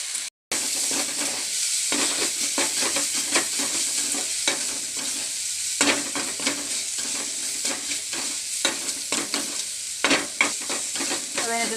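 Crushed chilli stir-fried in a pan for chicken kondattam, a steady close sizzle with repeated scraping stirs and clinks of the spatula running throughout, no voices.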